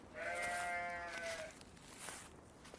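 Sheep in an Irish field bleat in one clear, fairly close call lasting over a second, followed by quieter outdoor background with faint distant sounds.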